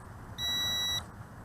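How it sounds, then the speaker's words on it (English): A single sharp electronic beep, about half a second long, sounds from a RUKO U11 PRO foldable GPS quadcopter drone on acquiring GPS lock, high and clear over faint background hiss. "there's a beep, and the blue LED went solid"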